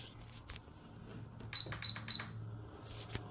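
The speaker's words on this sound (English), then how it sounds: "if you just go to the radio and give her a few clicks" Three quick plastic clicks from a JR Propo radio transmitter's buttons during servo sync, evenly spaced and close, over a faint low hum with no talking.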